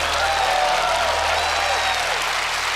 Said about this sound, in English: Give Allison a big round of applause as well.